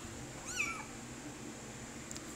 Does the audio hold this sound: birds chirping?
no